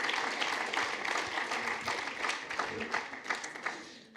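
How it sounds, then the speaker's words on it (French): An audience applauds at a national Responsible Care trophy ceremony, a steady wash of many hands clapping, fairly distant and even throughout, with faint voices mixed in. "on vous applaudit encore une fois"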